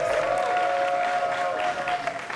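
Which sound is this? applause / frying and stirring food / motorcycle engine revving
applause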